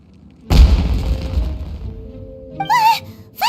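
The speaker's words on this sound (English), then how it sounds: "Was that an explosion?" Explosion in Genshin Impact: a sudden deep boom that rolls and fades over about two seconds, followed by a few whistling, rising firework-like tones near the end.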